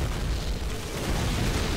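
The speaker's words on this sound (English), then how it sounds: "during the explosions" Explosions in the World War II shooter Call of Duty: United Offensive, a dense continuous rumbling roar of blasts that holds steady and loud for about two seconds with no talk.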